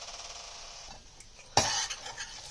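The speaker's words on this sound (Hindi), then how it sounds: "इस तरीके से हमें इसमें चम्मच घुमाते रहना है।" A spoon stirs besan frying slowly in oil in a kadai over a low flame, a soft scraping swirl over faint sizzling that jumps to a louder scrape partway through.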